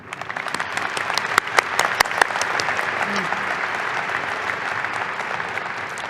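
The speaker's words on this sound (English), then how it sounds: "I would now like to applaud these guests and ask them to remain standing." Audience applause at a summer/fall commencement ceremony, a broad steady wash of clapping with a few sharp, close individual claps standing out near the start, continuing evenly throughout.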